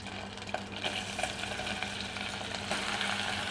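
Chopped onions sautéing in melted butter in a pot for Ezogelin soup, a steady close-up sizzle and crackle with light stirring scrapes, no voices.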